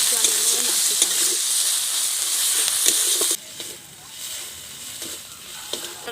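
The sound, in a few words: stirring ginger and garlic paste frying in a pan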